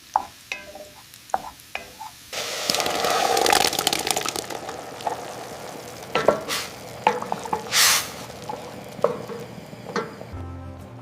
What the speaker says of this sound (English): saute onions and garlic until fragrant